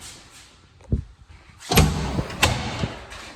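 A heavy thud lands first, then a car door slams and echoes, followed by engine rumble and knocks in a reverberant parking garage.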